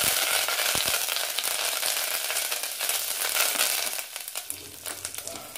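Spices, dried red chillies and curry leaves frying in hot oil for a Tamil buttermilk curry, a steady loud sizzle and crackle with a sharp pop near the start, easing slightly toward the end.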